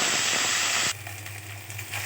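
Coriander leaves hit hot oil with fried urad dal in a kadai and make a loud, bright hiss that suddenly drops after about a second to a softer, crackling sizzle, close by with no voices.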